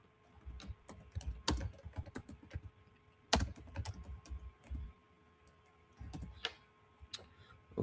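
Typing on a computer keyboard, close and clear: irregular clusters of crisp key clicks with a few louder strikes and short pauses between bursts.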